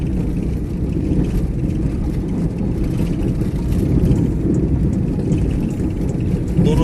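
A car rolls along a smooth, pothole-free road through forest near Jim Corbett in Uttarakhand, its steady engine hum and road rumble continuous and close throughout.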